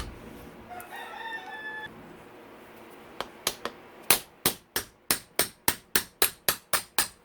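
Hammer blows on a KTM 125SX two-stroke engine to crack open tough sealant between the cases, starting with a few isolated taps and building into a steady run of about ten sharp, loud metallic strikes, with a faint birdlike whistle early on.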